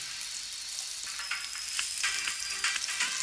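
Saundale fish sizzling steadily as it fries in a pan at Sawantwadi, a continuous hiss with brief crackling spurts, fairly loud and close, no voices.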